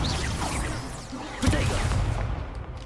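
Incendio fire spell cast in the game Hogwarts Legacy, a rushing whoosh with a sharp burst in the middle, loud and close, then a fading crackle.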